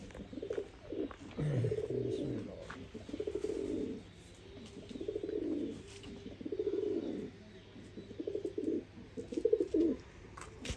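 Pigeons coo in soft, throaty, rolling phrases that repeat every couple of seconds, fairly close and alone.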